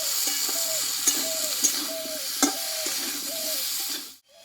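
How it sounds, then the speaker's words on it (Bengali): Taro being sautéed with spices in a pan: a steady, moderate sizzle and frying hiss, with a spoon scraping and stirring in a repeating rhythm and a few light clinks, cutting off abruptly at the end. "এখানে মশলাটা দিয়ে আমি গাটি কচুটা ভালোভাবে কষিয়ে নিয়েছি"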